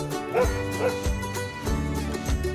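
A dog gives a series of yipping barks and whimpers, about five short evenly spaced bursts, close and fairly loud over a background of music.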